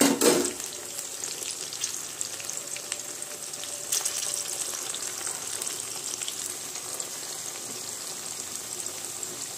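Carrot and potato frying in oil, a steady soft sizzle heard close and fairly faint, with a sharper clatter at the start and a brief stir midway, continuing evenly without talk.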